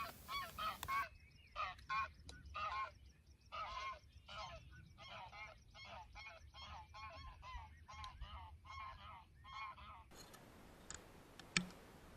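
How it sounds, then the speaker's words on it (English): Several geese honk repeatedly in a rapid, overlapping series from nearby as someone walks through thick grass on a summer evening, the calls fading out near the end to leave a quieter outdoor background. "walking along through the thickish grass, disturbing the geese."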